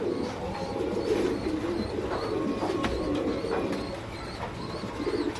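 Lahori pigeons, including a top-quality pair of grey male and female, coo steadily in a low murmuring chorus at close range with faint chirps mixed in.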